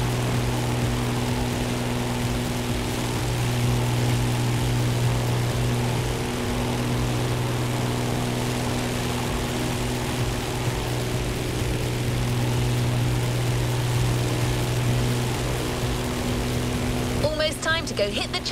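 Steady propeller drone of a vintage Grumman Bearcat F8F fighter plane in the racing game The Crew Motorfest, a constant low engine hum with a tonal buzz, holding level throughout and turning briefly noisy near the end.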